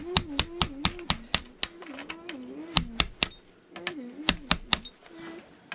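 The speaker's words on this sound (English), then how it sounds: "You've got a nice sharp chisel, it will do it for you. Tap, tap, tap." A sharp chisel taps electronic components off a high-grade circuit board on a patio table, giving a quick series of bright metallic clinks and taps, with a voice speaking under the strikes.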